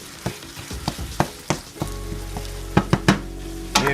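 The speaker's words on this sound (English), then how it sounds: "we've got our onions and our peppers and our garlic sauteed" Onions, peppers and garlic sauteing in a pan for a black bean chili, a loud close sizzle broken by repeated sharp scraping stirs and clacks of a utensil against the pan.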